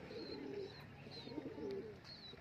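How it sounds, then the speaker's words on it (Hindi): Soft, low cooing of Keri-breed pigeons repeating in gentle rhythmic phrases, with faint higher chirps over a quiet background. "केरी केरी नस्ल के कबूतर रखे"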